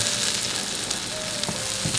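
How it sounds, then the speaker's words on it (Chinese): Moonfish (opah) fillet sears in hot oil in a pan, a loud, continuous sizzle with a few sharper crackles and pops near the end, no talking. "锅热倒油，来点海盐、黑胡椒碎，这边也给它来一点，鱼给它下锅煎一下"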